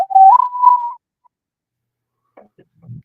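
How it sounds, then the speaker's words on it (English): A single clear whistled note slides upward and holds for about a second, then silence, followed by faint, brief rustling sounds. "I want to hear you whistling to yourself"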